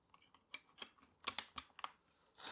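Keycaps pulled off a Keychron K8 Pro hot-swappable mechanical keyboard with its built-in keycap puller, giving a string of sharp plastic clicks and snaps, close and fairly quiet, irregularly spaced, with no talking.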